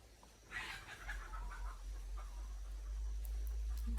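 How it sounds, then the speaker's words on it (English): Chickens cluck and call in a short, faint burst over a steady low hum, a few scattered squawks trailing off afterward. "the chickens"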